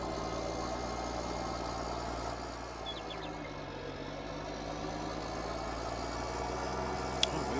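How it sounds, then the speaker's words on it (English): A farm tractor engine in Farming Simulator 19 labors under load while spreading liquid fertilizer, a steady low droning rumble that holds constant and near, with no talk over it. "putting a pretty good amount of load on the engine"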